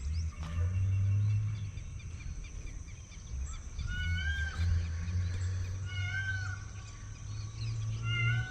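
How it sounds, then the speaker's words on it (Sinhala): Peacocks call near a lake in the early morning, with several short, wailing, meow-like cries repeating at a distance over a constant low rumble of wind and background noise. "අර පැත්තේ මොනරු කෑ ගන්න සද්දයක් ඉන්නවා."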